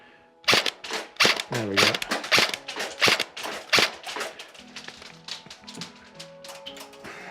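A VFC Avalon Rapier M4 airsoft rifle with an ECS system fires a quick string of sharp, close snapping shots, then falls quiet into softer mechanical ticks, with a short spoken remark during the shots.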